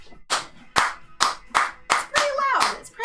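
Sharp, loud hand claps inside a car cabin, about eight separate boomy pops at an uneven rhythm, close and punchy, with a voice and other talk in between.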